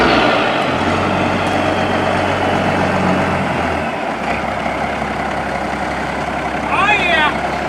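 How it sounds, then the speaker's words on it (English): Long truck rumbling past from inside a moving car, a heavy low engine drone that swells and fades over several seconds, with a brief squeal near the end. "Yeah, this is a long truck."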